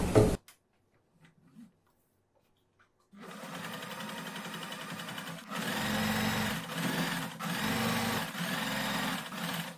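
A sewing machine top-stitches along the armhole curve of a girls' summer dress, running in a steady, close, continuous whir after a brief knock and a quiet pause, with short dips in speed as the fabric is guided.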